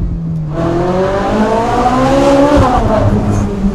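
A Ferrari 458 Spider engine revving close by, a loud rising and falling howl that climbs in pitch, eases off, then climbs again over a few seconds, with no talk over it.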